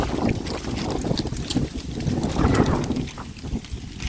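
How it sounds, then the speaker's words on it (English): Blustery wind gusts buffet the microphone outdoors at a graveside, a steady rumbling roar with surges and swells throughout, loud and close with no talking. "A little blustery today."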